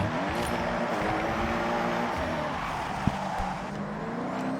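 A Toyota GR GT drifts in the racing game Forza Horizon 6, its engine droning at high revs while tires squeal faintly during the slide, with one sharp click partway through.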